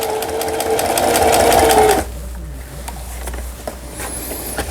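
A Singer 4432 sewing machine runs a fast, steady stitching burst for about two seconds, then stops abruptly, leaving a quiet hum and faint clicks.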